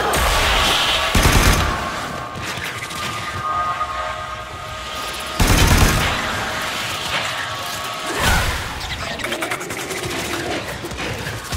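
Weapon fire at a hive in the video game Warframe, loud heavy blasts and rumbling impacts in several surges over a dense, noisy game soundscape, close and forceful.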